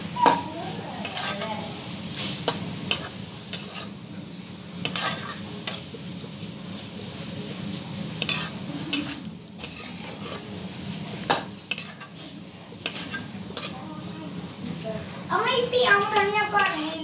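A pan of thoran made from grated coconut and medicinal leaves is stirred with a spoon. Frequent metallic scrapes and clinks sound over a soft sizzle, and a voice can be heard at times.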